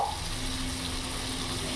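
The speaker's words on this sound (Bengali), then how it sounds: "মিক্সির বাটি ধোয়া জলটা দিয়ে দেবো" Water from rinsing a mixer jar poured into a pan of spiced prawn curry masala, a continuous close pouring and splashing rush with no talking.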